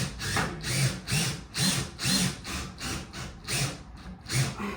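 A power drill drives screws into a wooden daybed frame, its motor whirring in about nine evenly spaced bursts at close range.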